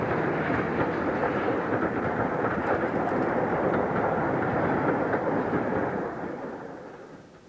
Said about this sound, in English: 33008 heads the Orient Express along the Fletton Loop towards Orton Mere